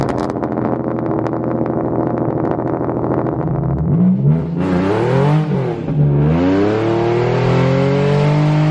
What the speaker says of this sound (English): let me go ahead and start this thing up, put some heat in the engine, and get on the road.